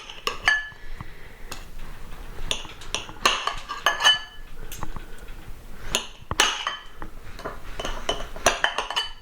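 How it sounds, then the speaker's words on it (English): A knife slicing cooked sweet potatoes on a board, sounding as a series of close, sharp taps and clinks of blade and dishes in an uneven rhythm. "What I'm gonna do with the sweet potatoes is slice these."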